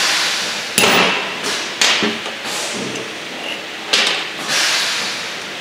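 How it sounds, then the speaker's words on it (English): Hammer striking a Scotchman punch to free a snap ring, with several sharp metallic blows spaced unevenly, loud and close. "Strike it with a fair amount of force to release the snap ring from the punch."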